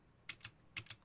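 Computer keyboard typing picked up on a racing livestream microphone: two quick pairs of crisp key clicks, close and fairly faint, with no talk.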